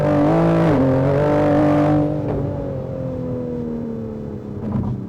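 Toyota Supra GR with a hybrid turbo setup accelerating hard, loud engine note climbing in pitch, breaking with a shift, then a steadier drone easing off. Heard from close range with no talking.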